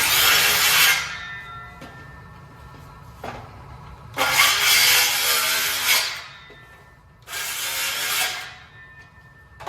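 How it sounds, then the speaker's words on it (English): A handsaw cutting an overcut in wood, with loud rasping bursts of sawing close by, broken by pauses, against a low steady hum. "I'm still going to use a handsaw on that overcut"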